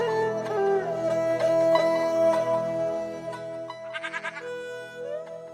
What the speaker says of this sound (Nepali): ए साँच्चै बाख्रा पाडाहरू मरि क्या